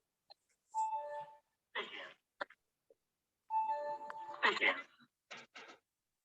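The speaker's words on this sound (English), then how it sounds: "I'm just going to start the GMC bell." A practice exam bell rings out twice in bright, ringing chime tones, with voices talking close by between and over the rings.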